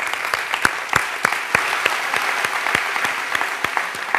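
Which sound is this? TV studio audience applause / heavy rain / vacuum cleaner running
TV studio audience applause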